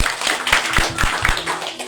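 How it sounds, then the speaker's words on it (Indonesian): A church congregation claps during a Christmas sermon, a run of sharp, fairly loud hand strikes with a few heavy accented claps over a dense crowd patter. "Kasih tepuk tangan untuk Tuhan Yesus."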